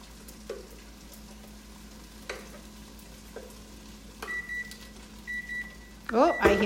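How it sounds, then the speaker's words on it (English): A kitchen timer for cooking quinoa beeps in short repeated tones over a sizzling pan of tofu and spinach, with clatter and stirring noises around it. "I hear the timer for the quinoa"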